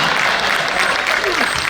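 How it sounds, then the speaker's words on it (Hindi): Audience applause at a Hindi stand-up comedy show, a steady wash of clapping from a crowd filling the whole clip at close, even loudness. "ताली वाली मत बजाना"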